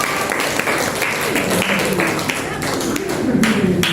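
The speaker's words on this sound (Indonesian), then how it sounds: "Jadi tepuk tangan dulu untuk mereka." A classroom full of people clapping steadily for several seconds after student presentations, a dense patter of hand claps with some voices mixed in.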